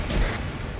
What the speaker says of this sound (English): That's an auto cannon.